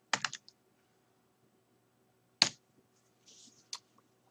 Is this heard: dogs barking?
no